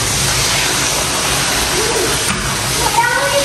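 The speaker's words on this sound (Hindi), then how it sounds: "जी यहाँ से बारिश का अंदाजा लगा सकते हैं, ये देखें, ये देखिए कितनी तेज।" Heavy rain pours and splashes loudly and steadily, with water rushing in indoors during a downpour in Pakistan; voices talk faintly over the constant wash of water.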